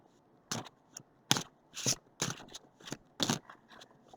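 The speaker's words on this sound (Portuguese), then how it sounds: "Agora eu vou tirar as cartas" Tarot cards drawn and handled one at a time, six or seven crisp papery snaps and slides in an uneven rhythm, close and quiet with no talking.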